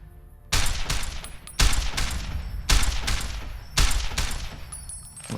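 Target-practice gunshots in Fallout: New Vegas, four loud, close shots about a second apart, each trailing off in a rumbling echo, with no talk.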